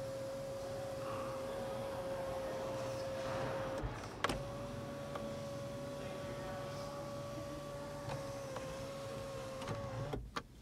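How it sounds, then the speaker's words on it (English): The sunroof of a 2020 Lexus GX460 slides open with a steady, quiet electric motor whine lasting several seconds, ending with a soft click, then the motor hums on at a slightly higher pitch before stopping. "We can slide."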